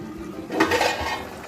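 Beef for biryani is stirred in a cooking pot, a single close scrape and clink of a utensil against metal lasting under a second.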